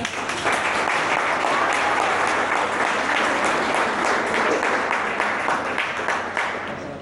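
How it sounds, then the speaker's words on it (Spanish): A studio audience on a Colombian television special on Teleantioquia bursts into loud, sustained applause that fills the whole stretch, dense clapping with no one speaking over it. "Un fuerte aplauso para él."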